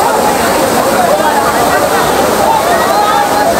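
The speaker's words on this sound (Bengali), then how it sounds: "এই স্বচ্ছ ঝর্ণার পানি পাথরের মধ্যে আশ্রয় পড়ছে এবং দুই ভাগে বিভক্ত হয়ে দুই দিক দিয়ে ছড়িয়ে পড়েছে" Mayabi waterfall at Jaflong pours over rocks, filling the scene with a loud, constant rushing roar of falling water that never lets up.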